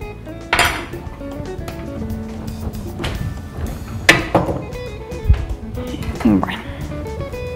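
A fork mashes avocado into a rustic guacamole in a bowl, giving soft squelches and scattered metallic clinks of cutlery, with a voice talking over it.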